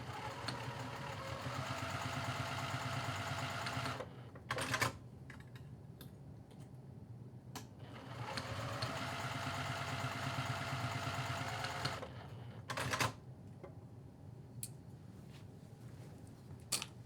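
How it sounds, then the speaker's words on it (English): A sewing machine stitches the short ends of a fabric shoulder strap pad at a 1/4 inch seam, running in two steady bursts of about four seconds each, separated by quieter handling pauses and brief clicks. "we're going to be sewing both of these short ends using a 1/4 inch seam allowance"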